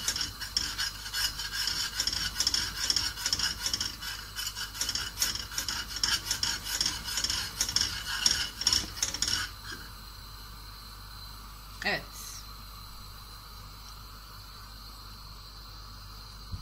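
A flour and butter roux for Hünkar Beğendi is stirred and scraped in a pan, making a steady, close rasping and rubbing sound for about nine seconds. The sound then stops, leaving quiet background with a brief clink.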